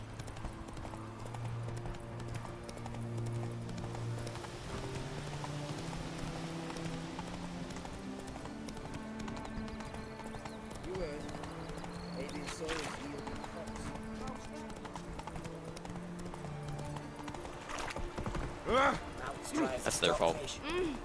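Hoofbeats of the horse Roach galloping in the video game The Witcher 3, a steady clip-clop rhythm under game music and ambient sound, with someone talking over it at times.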